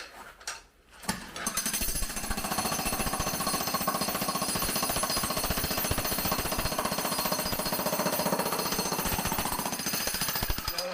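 A power hammer breaks a big piece in half, pounding loudly in a fast, continuous jackhammer-like rattle for about ten seconds after a short start-up.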